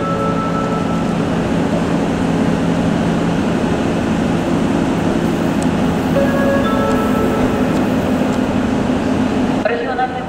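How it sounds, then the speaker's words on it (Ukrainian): An electric commuter train departs a Kharkiv station at night with a steady, loud rumble and hum. A station announcement voice runs over it throughout. "Електропоїзд Харків-Огульці вирушає від 1-ї А-платформи Люботинських тупіків."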